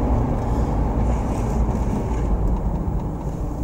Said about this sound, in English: you'll hear a difference in the tire sound going from concrete to asphalt